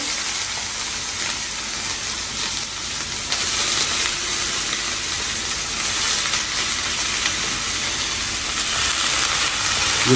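Food frying in very hot oil, a loud, dense and unbroken sizzling hiss close by, with occasional crackles and slight swells in intensity, no voices.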